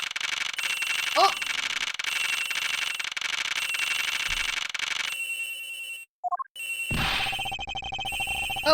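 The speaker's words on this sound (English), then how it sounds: "The ringing's coming from somewhere in here, sir." Ringing cell phone inside a flight attendant's room in the Ace Attorney Investigations video game: a steady electronic ring pulses beneath game music and chirps, breaks off into near silence, then returns loud alongside a swooping effect.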